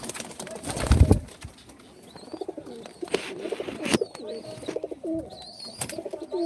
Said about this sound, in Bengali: এগুলো হচ্ছে আমার অনেক শখেরই পায়রা